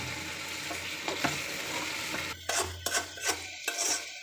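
Polao rice frying in a pan, a continuous dry sizzle broken by scraping stirring strokes that grow sharper and more frequent toward the end, with no talking.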